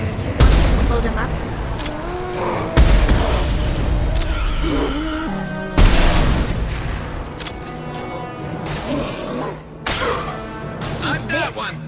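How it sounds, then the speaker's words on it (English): High-pressure tanks blow up in Mass Effect 2 with three heavy, sudden booms spaced a few seconds apart, amid gunfire and combat, while voices talk over the action. "There are high-pressure tanks by the husk. Blow them up."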